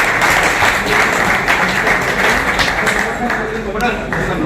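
A hall crowd at a Rajasthan engineers' Engineers Day gathering breaks into loud, sustained applause, a dense continuous roar of clapping with voices mixed in.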